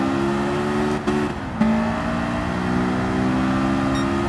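A Honda S2000 engine drones steadily in Gran Turismo 7 at Grand Valley Highway, a loud tonal hum that dips during a brief downshift around the one-second mark, then picks back up and holds as the car accelerates.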